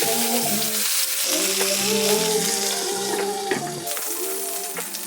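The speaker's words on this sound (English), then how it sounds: "make sure that the burgers are making good surface area contact with the skillet" Burger patties sear in a hot skillet at home, a steady loud sizzle with spitting crackles and low background hum running throughout, with no one speaking.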